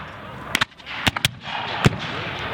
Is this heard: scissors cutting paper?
no